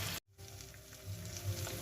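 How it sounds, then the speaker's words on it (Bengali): Chicken pieces fry under a lid in a pan while being prepared for home-style tandoori, giving a steady, close sizzle that cuts out briefly and then resumes with soft crackles. "এবার ওই অপর পিঠও ঠিক একইভাবে আমি ভেজে নেব ঢাকা দিয়ে।"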